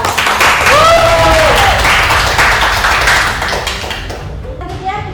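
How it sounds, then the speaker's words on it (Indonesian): Lively applause and clapping from an audience at a school discussion event in Pontianak, loud and sustained with a few overlapping voices, fading slightly toward the end. "mari kita berikan tepuk tangan yang meriah untuk Mas Adam."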